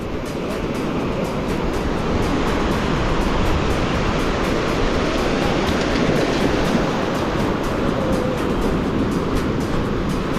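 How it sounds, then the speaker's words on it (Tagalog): Ocean surf at a beach in Casiguran, Aurora, a continuous broadband wash of waves rolling in at steady moderate loudness with no voices over it. "Taas ng alon."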